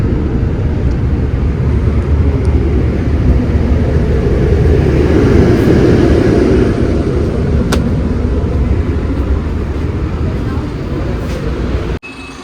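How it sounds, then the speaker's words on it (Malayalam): A KSRTC Volvo 9600 bus climbs a mountain ghat road between Kozhikode and Bangalore, its engine giving a loud, steady low drone and road rumble throughout before a sudden drop near the end. "ഒരു ത്രോട്ടിൽ കൊടുക്കുന്ന സമയത്ത് നല്ല എൻജിൻ നോയ്സ് വരുന്നൊരു വണ്ടിയാണ്"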